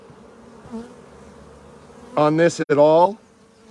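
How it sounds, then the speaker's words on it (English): Honey bees buzz loudly and close from an opened hive during a hive split, one aggressive bee droning near the hand in a strong burst after a quieter stretch with a brief spoken remark. "That bee was very aggressive on my hand."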